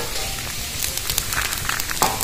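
Vegetable soup bubbles in an uncovered pot, a busy crackling, popping simmer with small bursts of sound, close and continuous, with no speech.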